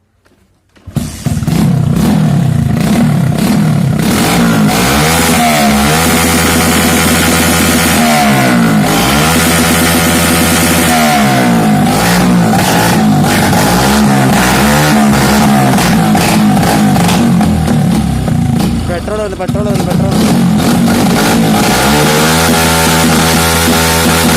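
A loud modified motorcycle engine fires up abruptly and revs repeatedly, its rough, throaty roar rising and falling close by for the whole stretch.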